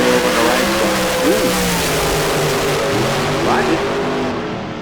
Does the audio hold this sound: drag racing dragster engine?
yes